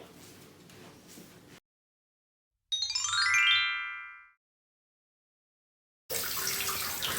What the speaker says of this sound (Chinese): 我在洗脚。